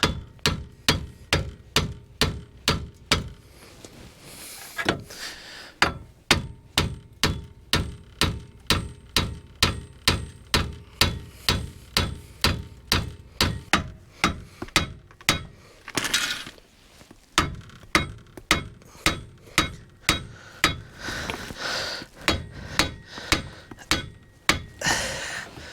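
Hammer blows knocking at the steering knuckle of a 1997 Ford Explorer during lower ball joint work, with dozens of sharp, loud metallic strikes in a fast, steady rhythm broken by brief pauses.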